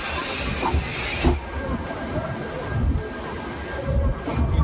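Indian train rolling into Kharagpur station, a steady low rumble and rattle of the carriages with faint wheel hiss, heard from inside the coach, fairly close and continuous.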